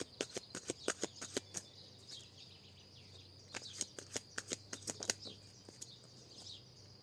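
Tarot cards being shuffled and drawn, a close series of crisp flicking snaps and papery riffles arriving in two quick bursts with a short pause between, faint and alone in a quiet room.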